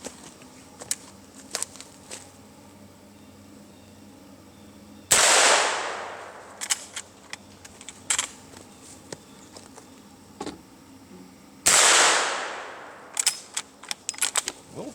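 Two sharp, loud Winchester rifle shots ring out several seconds apart, each followed by a decaying echo, with clicks and handling noises of the action in between.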